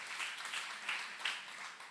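Scattered applause and clapping from a church congregation, moderately faint and diffuse, with a few louder bursts of claps over a short stretch.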